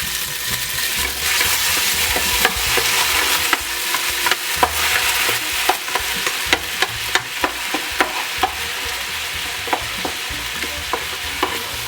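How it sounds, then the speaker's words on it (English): Garlic, ginger and fenugreek seeds stir-fry in a hot pan for a lamb curry, with a steady close sizzle throughout and a run of sharp spatula scrapes and clacks that grow more frequent in the second half. "we'll add the garlic and the ginger and the fenugreek seeds and stir fry them for about 1 to 2 minutes"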